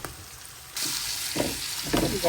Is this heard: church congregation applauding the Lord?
no